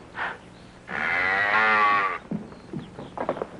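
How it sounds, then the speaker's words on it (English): A cow lets out one long, loud, drawn-out moo close by, with a few short quieter noises before and after it. "Don't tell me you bought a cow."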